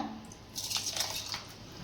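Water dripping and trickling as soaked rice is strained in a home kitchen, a soft patter swelling in the middle of the moment and easing off, close and fairly quiet with no talking.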